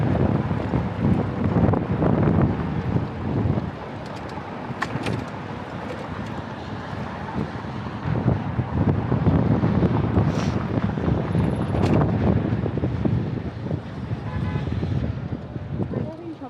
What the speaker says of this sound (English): it's windy because then we can't hear each other very well